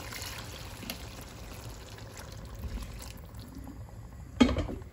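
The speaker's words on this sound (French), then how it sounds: "Et maintenant, je vais rajouter un peu d'eau. De l'eau tiède, bien sûr." Lukewarm water is poured into a pot of smoked fish sauce, a faint, steady trickle for several seconds, then a brief louder splash near the end, with no talking.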